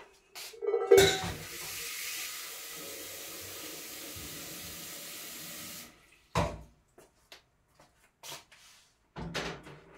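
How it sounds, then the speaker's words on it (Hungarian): Tap water pours steadily for several seconds into a soup pot holding half a white onion and garlic for vegetable soup, preceded by knocks of dishes, then followed by scattered clatters of kitchenware. "Vizet rá."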